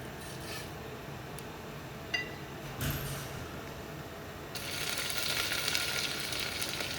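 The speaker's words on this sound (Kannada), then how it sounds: "ಮೆಣಸಿನ್ಕಾಯಿ, ಈರುಳ್ಳಿ ಮತ್ತು ಆಲೂಗಡ್ಡೆನ ಸಣ್ಣದಾಗಿ ಕಟ್ ಮಾಡಿಕೊಂಡು ಬೆಳ್ಳುಳ್ಳಿ ಮತ್ತು ಕರಿಬೇವಿನ ಸೊಪ್ಪನ್ನ ಎಲ್ಲ ಸೇರಿಸಿ ಒಗ್ಗರಣೆಗೆ ಹಾಕ್ಕೊಳ್ಳಿ" Chopped green chillies, onion, potato, garlic and curry leaves hit hot oil for a South Indian tempering, giving a bright, steady sizzle that swells louder partway through, with a few faint clinks near the start.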